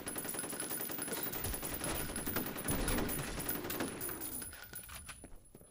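A machine gun fires in the Ahhhh Real Monsters video game as a rapid, continuous rattling burst that fades toward the end, with a brief exclamation from a player.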